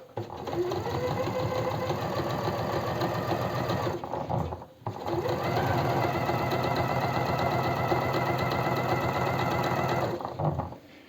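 A sewing machine stitches the placket of a blouse made of eyelet embroidered fabric, sewn from the wrong side. It runs in a steady, fast, continuous whir, pauses briefly, then runs again before stopping near the end.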